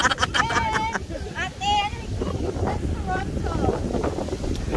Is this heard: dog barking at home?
no